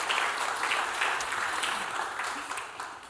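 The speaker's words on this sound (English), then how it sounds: "I believe that we should clap our hands for all of these inspiring stories." An audience at a World Bee Day ceremony claps hands in a steady, dense round of applause that fades slightly toward the end.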